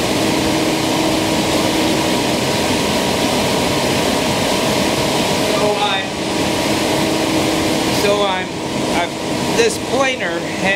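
Thickness planer with a motorized table milling a black walnut board, a steady loud mechanical whine and rush of noise, briefly interrupted by voices near the end.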